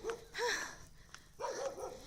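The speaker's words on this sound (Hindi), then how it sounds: "पीछे कुत्ता भौंक रहा था" A dog barks and yips a few times in the background, faint and a little distant, with short whimpering calls in a quiet outdoor setting.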